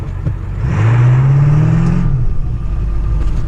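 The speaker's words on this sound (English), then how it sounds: "I'm just gonna hit start here, and I'm just gonna floor it and go." A 238cc engine is floored to full throttle, a loud, close revving whine climbing in pitch for about a second before settling into a steady roar.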